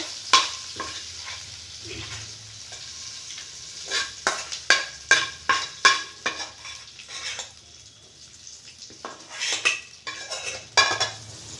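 Urad dal tempered in hot oil in a pan for a chutney, with a spoon stirring and clinking against the metal in quick bursts over a soft, continuous sizzle.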